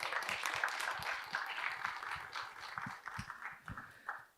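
An audience at a Korean policy forum gives a steady round of applause to thank the session chair, Professor Choi Hee-yoon, soft and somewhat distant throughout.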